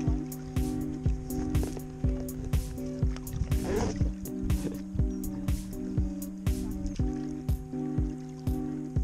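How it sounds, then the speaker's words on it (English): Rhythmic paddle strokes from a tandem stand-up paddleboard on the sea, each a close, soft splash and drip repeating at a steady pace, with a steady tonal hum underneath. "We started to paddle back round"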